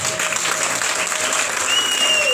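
Steady applause from a church congregation cheering the Holy Spirit, continuous and fairly loud throughout, with a faint tone running beneath it.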